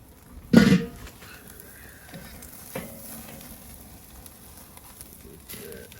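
A ribeye seasoned with Killer Hogs steak rub hits a Weber 22 kettle grill with a loud, brief burst of sizzle that quickly dies down to a soft, steady crackle.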